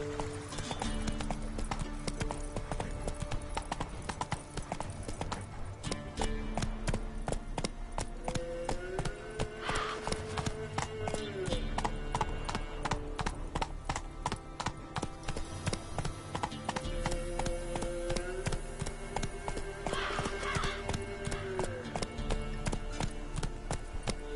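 Roach the horse gallops in The Witcher 3, hooves clip-clopping in a fast steady rhythm under game music with sustained tones, continuous throughout at a moderate level.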